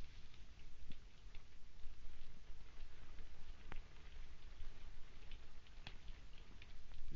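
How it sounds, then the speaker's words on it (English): Steady rain patters on a roof or window, a constant soft hiss with occasional sharper drops, close and even throughout with no talking. "It's only the rain."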